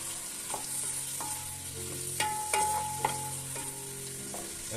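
Chopped onions sizzle in hot oil in a pot while a spoon scrapes and stirs them in irregular knocks, a steady close frying hiss underneath.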